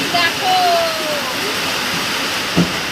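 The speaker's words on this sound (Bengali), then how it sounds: "আবার বৃষ্টি চলে এসছে, ঝমঝম করে বৃষ্টি শুরু হয়েছে" Heavy rain pouring down around a river launch in the Sundarbans, a loud continuous rushing wash, with a voice and a faint tonal whine briefly over it.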